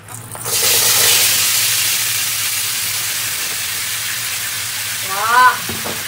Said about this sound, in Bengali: আমার এই বাড়িতে প্রথম পেঁয়াজ কলি, আলু, কড়াইশুঁটি আর ফুলকপি ভাজা একসাথে হচ্ছে।